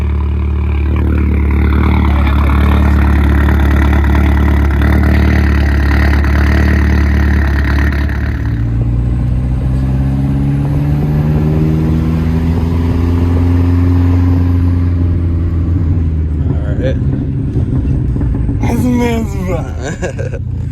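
A Volkswagen Mk4 GTI engine idles with an uneven, loping rhythm, loud and close, with its pitch shifting partway through as a voice talks over it.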